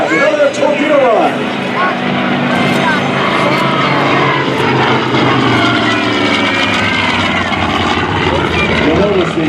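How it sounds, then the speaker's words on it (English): TBM Avenger, a WWII propeller torpedo bomber, droning loudly past on a low torpedo run at an airshow, its engine roar sustained and varying in pitch as it approaches, with an announcer talking over it throughout. "this aircraft, the TBM, here she comes again from the left, another torpedo run."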